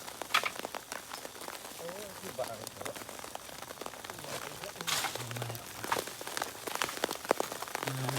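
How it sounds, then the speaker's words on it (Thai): Rain falling outdoors at night during beetle catching with a light trap, a steady crackling patter under bursts of excited talk, with some louder gusts of drops. "ครับพี่น้องมันฝนตกเลย"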